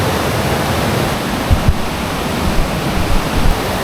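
Steady, loud rush of a river and waterfall flowing beside a hiking trail at Ubot Falls, Villa Aurora, a broad continuous roar with a few soft low knocks, no voices.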